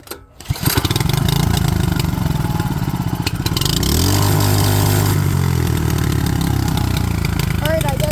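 A small gasoline engine, primed and choked, sputters and catches after a rattling pull, then runs loudly and steadily, its revs climbing midway and holding at a rough, buzzing idle up close.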